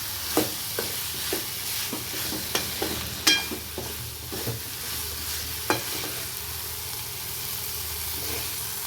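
Capsicum poriyal with pomegranate seeds being stirred and fried in a pan, a soft steady sizzle under scattered spatula scrapes and clacks, one sharper knock near the middle, no talking.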